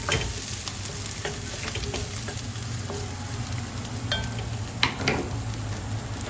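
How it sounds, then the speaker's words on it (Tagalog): Fresh crushed garlic fries in a pan, giving a steady close sizzle with occasional pops and faint scraping or stirring. "Hayaan natin na maging golden brown ang bawang."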